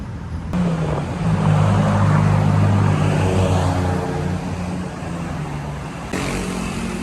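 Old buses passing along a street in Thailand, a loud rumbling engine drone that swells as a vehicle goes by and then fades back into the steady traffic noise, with no talking.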